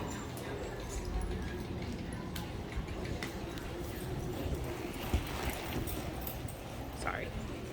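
A young colt moves about during groundwork at a horse camp colt-starting competition, its hooves giving soft, irregular clip-clop steps at a moderate distance over a steady outdoor background hum.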